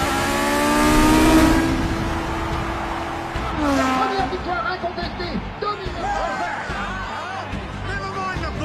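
Formula One race cars of the 1970s, Hunt's McLaren and Lauda, racing toward the Druids corner: loud engine whines rise and fall as cars sweep past, with shifting pitch and a busy, roaring field throughout, voices mixed in.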